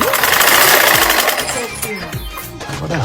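A sewing machine stitching through a paper banknote gives a rapid, close mechanical rattle that slows slightly and fades toward the end.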